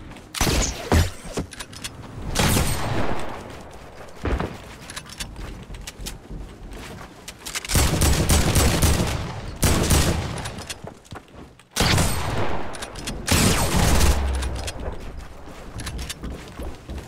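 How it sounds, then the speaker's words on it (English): Repeated bursts of gunfire in the Fortnite video game, loud rapid volleys coming in several clusters with brief pauses between them, no voices over the shooting. "You're getting shot at!"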